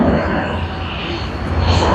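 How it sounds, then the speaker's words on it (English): A Boeing 777 jet airliner arriving at Sydney Airport gives a steady, broad engine roar that holds loud throughout, with voices talking over it. "NZ103 on its Boeing 777 has just arrived, and we will get a very good look of it now."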